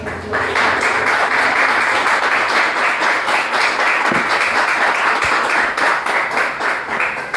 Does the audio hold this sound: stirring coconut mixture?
no